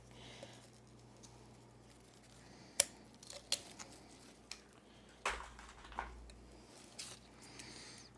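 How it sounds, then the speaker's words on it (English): A tag is snipped off with scissors in a quiet room, a few sharp close clicks and rustles spaced out against faint hum. "Let me get rid of this tag. I think I'm just gonna cut it."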